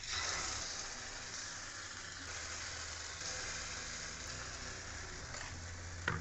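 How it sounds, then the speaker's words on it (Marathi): Batter sizzles softly in an oiled appe pan over a low flame, with a continuous faint hiss, a couple of light clinks and no talking. "गॅसची फ्लेम स्लो करूनच हे बॅटर आता हे आप्पे पात्रात घालणार आहोत."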